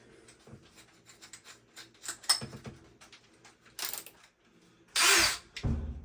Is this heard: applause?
no